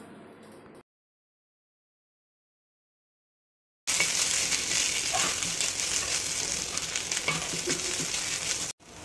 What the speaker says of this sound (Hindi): कढ़ाई में कैप्सिकम और कॉर्न डालकर भून लेते हैं।